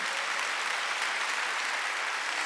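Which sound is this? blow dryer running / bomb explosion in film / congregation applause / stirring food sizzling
congregation applause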